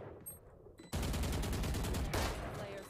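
Heavy video game gunfire erupts into a sustained, loud burst of rapid shots that runs nearly continuously for about two seconds, with a second surge near the end, following a brief quieter stretch at the start.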